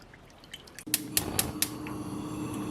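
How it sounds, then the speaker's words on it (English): Thin tamarind chutney liquid is strained in a home kitchen, with a few sharp clinks of a utensil against the strainer over a steady close trickle of liquid and no talking. "Just strain it."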